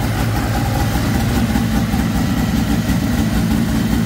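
A Ski-Doo Formula Mach 1 snowmobile with a Rotax 617cc engine idling just under 2,000 RPM while warming up, a loud, steady, close rumbling drone with even vibration.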